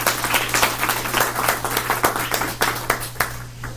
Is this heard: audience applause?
yes